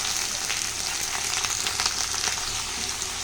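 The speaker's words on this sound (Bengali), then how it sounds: "বেগুন আর শিমটা একটু নাড়িয়ে দিলাম" Eggplant and beans sizzle steadily in a hot pan while being stirred, a dense crackling fry with small scraping clicks from the stirring, close and without talk.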